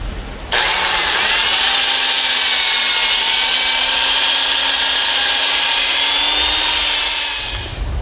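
A power drill bores steadily into a wood beam for a homemade firewood splitter, giving one loud, continuous grinding whine that lasts about seven seconds and then winds down.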